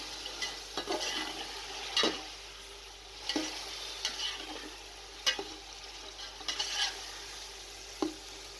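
Spices frying in a pan for potato and pea pulao after a little water is added, a quiet steady sizzle broken by irregular scraping stirs, close and fairly faint.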